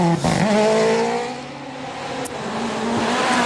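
A rally car on a special stage at the Rallye de Finlande roars close by, engine pitch rising and falling through gear changes in a loud, sustained run.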